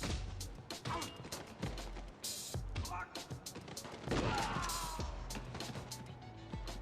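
An early Saints Row build shows melee and firing mechanics with a shotgun, producing a rapid scatter of sharp gunshots and heavy impact thuds. The hits land in quick irregular bursts at moderate volume.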